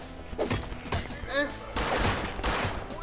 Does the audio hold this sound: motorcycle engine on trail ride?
no